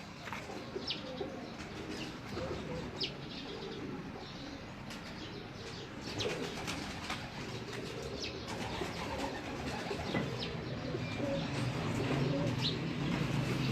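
Quiet cooing from a Salara Teddy pigeon sits under a hissy background, with occasional brief wing flaps and chirps, faint and fairly distant throughout.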